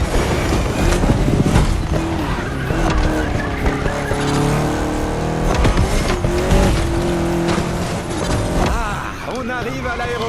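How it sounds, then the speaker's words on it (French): Lancia Delta Evo 2 rally car racing in The Crew Motorfest, engine roaring continuously with tire squeal and skidding, loud and close, with a voice talking over the driving. "L'indestructible voiture de papa, la Lancia Delta Evo 2."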